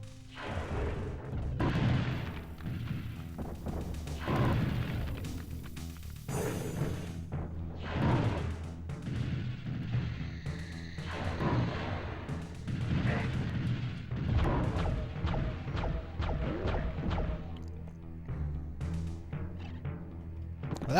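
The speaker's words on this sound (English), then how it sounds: "Stop shooting projectiles at me." Hexen on PS1: heavy booming projectile blasts and impacts, repeated rumbling bursts spread across a busy stretch of fantasy combat, loud and dense throughout.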